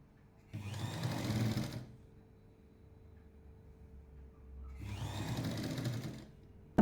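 A sewing machine stitches a lined jacket in two separate runs of rapid, steady mechanical whirring, each lasting a second or so. A quiet hum fills the pauses, and the sound is close and fairly soft.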